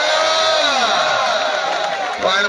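Stadium crowd at a match in Iqbal Stadium cheering and whooping, a loud, sustained roar of many voices with rising shouts, while an announcer calls out over the noise.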